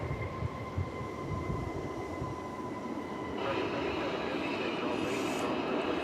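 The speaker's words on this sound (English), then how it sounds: "That was American Flight 2198 from Austin, Texas, 737-800." American Airlines Boeing 737-800 arriving from Austin at DFW Airport, a distant, low jet rumble with a thin steady tone that shifts to a broader hiss partway through.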